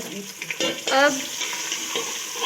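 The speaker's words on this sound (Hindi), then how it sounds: "गोश्त को डाल के हम फ्राई कर रहे हैं" Beef pieces fry in a pot of hot oil for nihari, giving a steady close sizzle with scraping stir strokes over a couple of seconds.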